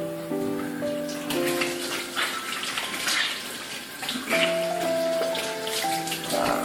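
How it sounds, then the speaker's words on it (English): Hands are washed under a running kitchen tap before preparing bratwursts, a steady rush of water continuing throughout beneath background music. "wash your hands."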